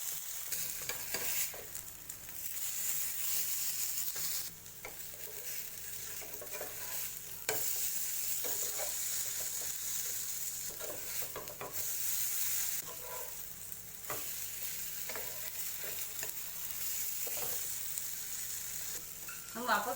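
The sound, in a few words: sprout chilla frying on pan until golden brown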